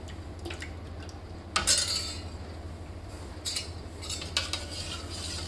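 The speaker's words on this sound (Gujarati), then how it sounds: "અને મલાઈમાં એને સારી રીતે મિક્સ કરી લઈશું" Cooled heated milk being stirred into whipped malai for mango ice cream, with soft scraping and clinks of a utensil against a bowl over a low background hum.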